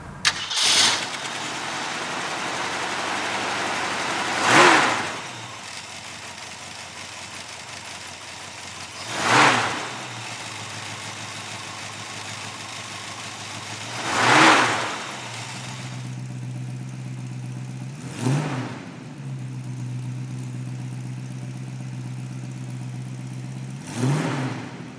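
A 1968 Ford Mustang engine idles steadily and is revved in five sharp surges spaced about five seconds apart. It sounds close and loud, with a deeper rumble in the later revs and no talking.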